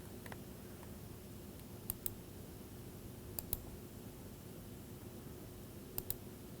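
A computer mouse clicks while dimensioning lines in CAD software: three faint, crisp double-clicks spaced a second or two apart over a low, steady background hum.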